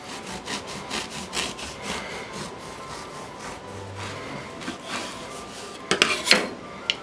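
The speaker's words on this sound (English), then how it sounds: "When my bread has cooled off, let's give it a cut and see." Knife sawing through a crusty loaf of homemade sourdough bread, a series of rhythmic rasping back-and-forth strokes close up, ending in a few louder crackling cuts.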